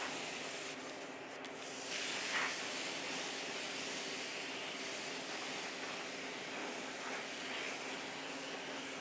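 Spray paint hissing steadily from an aerosol can onto a quarter-scale Aquaman figure, a continuous close airy spray with a brief dip near the start.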